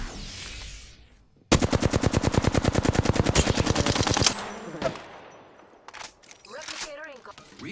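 Rapid automatic gunfire in a shooter video game, a long loud burst of evenly spaced shots followed by scattered effects, with a voice calling out over the action.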